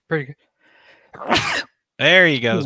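A sneeze during a live stream, one sharp noisy burst between short bits of nearby conversation, close and fairly loud.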